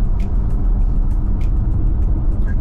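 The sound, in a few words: combustion engine starting in Haval H6 GT hybrid SUV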